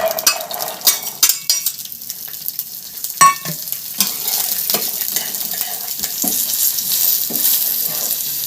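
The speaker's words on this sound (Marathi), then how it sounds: "तेलात आपल्याला काय करायचं आहे चिचुरडी चिचुरडा काय करायच्या भाजून घ्यायची" Chichurdi wild greens roasting in hot oil in a pan, a loud close crackling sizzle with repeated scraping stirs and utensil clinks against the pan throughout.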